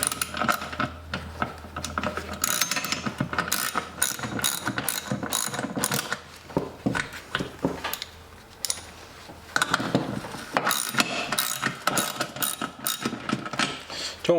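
A hand ratchet with a 14 mm socket tightens a clamp on a Devil Forge DFPROF2 propane forge, clicking in fast repeated bursts with short pauses between strokes, close up and alone.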